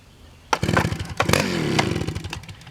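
A chainsaw used for sawing firewood logs is pull-started and catches, sputtering into a loud rough idle after a sharp initial crack, then revving briefly, close by.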